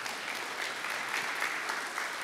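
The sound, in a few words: conference audience applause for lightning talks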